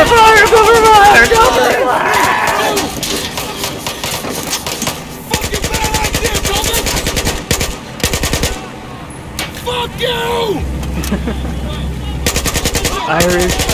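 Rapid machine gun bursts in Battlefield 4's Siege of Shanghai campaign, loud and repeated over several seconds, mixed with shouting soldiers and battle chatter.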